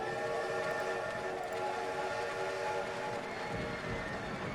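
Simulated trains rolling through a park-building game with a mass of 70 thirty-car trains, a steady droning rumble with sustained whistle-like tones layered on top, continuous and fairly faint.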